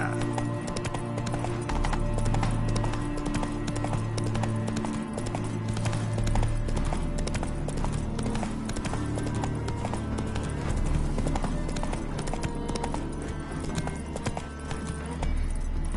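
Steady clip-clop of horse hooves at a trot in The Witcher video game, continuous and fairly close, over a low ambient game score with faint background noise.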